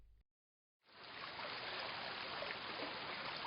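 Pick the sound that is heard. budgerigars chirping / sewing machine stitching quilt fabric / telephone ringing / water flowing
water flowing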